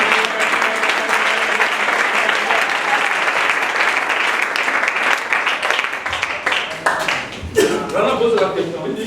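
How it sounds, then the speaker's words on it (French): A church congregation applauds and cheers during a sermon in Moanda, Haut-Ogooué, Gabon, with loud, dense clapping and crowd voices throughout that thin into scattered claps near the end. "Vous acclamez le Seigneur?"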